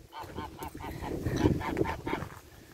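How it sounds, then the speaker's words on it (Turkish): Two large farm geese honk on a rural village plot, a run of about eight fairly loud, rhythmic honks close by with no talk over them. "Şöyle bir büyük kazlarımız var."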